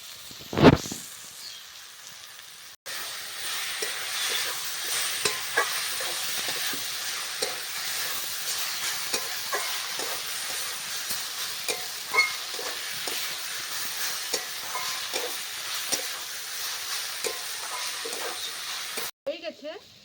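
Potatoes frying in a pan for a prawn and banana-flower mocha ghonto, giving a steady hiss of sizzling broken by frequent scraping stir strokes, close and continuous for most of the stretch, with a brief voice near the start.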